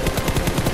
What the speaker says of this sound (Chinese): 狗柱别开枪